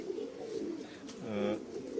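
Blue-barred tekir pigeons cooing softly at close range, a low rolling coo rising and falling over about two seconds against a faint, hushed background.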